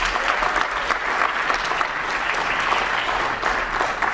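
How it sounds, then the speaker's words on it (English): Loud, steady applause from an audience at an Arab Student Union poetry slam, a thick wash of many hands clapping throughout with no break. "So please, help me give ASU a round of applause."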